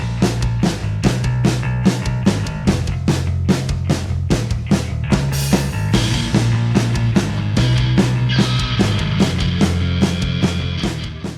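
A recorded rock-style song plays loud and steady, with punchy drums keeping a regular beat beneath guitars and bass.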